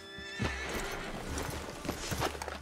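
A horse in the Red Dead Redemption 2 video game whinnies while its hooves clip-clop, the neigh and footfalls blended with game ambience at a moderate, steady level.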